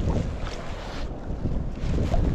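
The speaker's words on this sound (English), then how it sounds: "I'm tired of fighting the wind" Strong wind gusts buffet the microphone on a reservoir during a windy late-fall day of fly fishing from a small boat, a loud continuous low roar that surges and eases without any talk.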